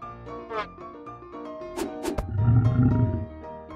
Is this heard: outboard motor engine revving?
no